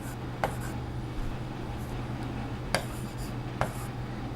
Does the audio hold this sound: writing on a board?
yes